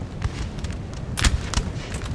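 Musket and artillery volleys in a Napoleonic-era strategy battle game, a muffled rumble of distant cannon and scattered crackling shots over a constant low battlefield roar.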